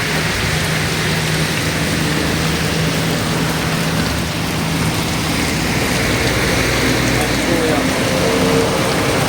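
Steady rain pours down on Batasan Road in a constant hiss, close and loud, with a low background rumble.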